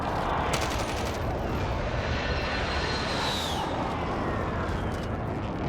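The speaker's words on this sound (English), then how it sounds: "There's still a guy shooting me from the left." Rapid bursts of gunfire from the Call of Duty video game crackle in the first seconds, set against a steady roaring drone of aircraft engines that continues throughout, with no talking.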